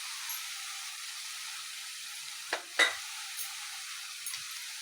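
Finely chopped tomatoes frying in a pan, a steady close sizzle that runs throughout, broken by two short stirring scrapes midway, with no talk.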